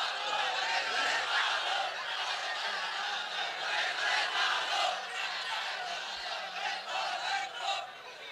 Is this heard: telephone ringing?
no